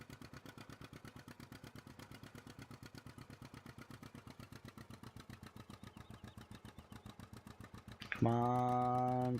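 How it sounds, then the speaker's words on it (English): A tractor engine in Farming Simulator 15 idles with a fast, steady low chugging pulse, then a louder tonal engine sound cuts in near the end. "Come on, tractor."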